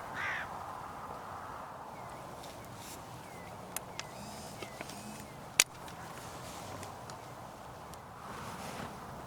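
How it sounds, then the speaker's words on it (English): Hooded crow calling from a fence post a little way off, its caws faint and scattered over steady outdoor wind and ambient noise, with a few sharp clicks and one loud snap partway through. "A second hooded crow just landed in one of the fence posts"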